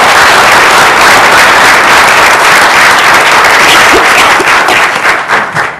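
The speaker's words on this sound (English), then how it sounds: "let's give them all a round of applause" A council meeting audience gives scouts a loud round of applause, dense steady clapping close by that carries on for several seconds before thinning out at the end.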